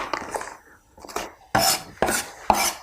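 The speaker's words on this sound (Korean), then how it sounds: "양파 다져서" Knife mincing onion on a cutting board while preparing an oven-roasted eggplant vegan dish, heard as a few close, sharp chopping strikes in a loose rhythm with no talking.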